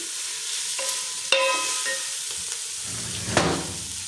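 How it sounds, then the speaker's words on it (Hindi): Masala for cluster bean (guar phali) curry roasts in a pan, giving a close hissing sizzle with a few quick stirs and clinks of the spoon over about four seconds. "अब इसको अच्छी तरह से हम भुनाई करेंगे इसकी।"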